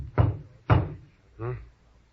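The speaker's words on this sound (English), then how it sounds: "There was a knock on the door." Knocks on a door in a radio drama, two sharp heavy raps in succession followed by a softer, duller thud, close and clear against quiet.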